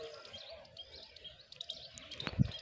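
Sparrows chirp and tweet faintly in the open while grain is scattered for them, with a brief louder thump near the end.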